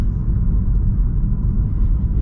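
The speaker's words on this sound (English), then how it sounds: "This is kind of a bumpy, beat up road, and the suspension's handling it fine." A 2024 Buick Envista with a 1.2-liter engine rolls over a bumpy, beat-up road, heard from inside as a steady loud low rumble of road and tire noise, with no talking.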